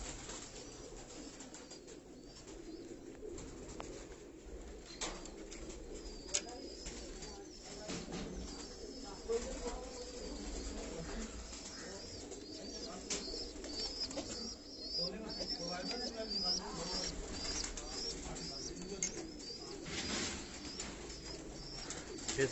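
Pigeons kept by a Karachi fancier, loosed from their cages, coo and flutter in a continuous low murmur with occasional wingbeats, set against steady outdoor ambience.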